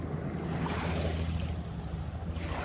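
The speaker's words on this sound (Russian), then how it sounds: "Смотри, вертолет." A helicopter passes over a beach on the Istra, heard as a steady, moderately distant rotor and engine drone with low throbbing beneath a broad rushing wash, no one speaking.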